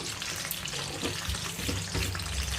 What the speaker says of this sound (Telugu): ఇప్పుడు శనగపప్పు వేస్తున్నాను.